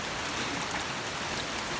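Steady rain pouring down outdoors, a dense, even hiss of drops on surfaces that stays constant throughout, with no voices.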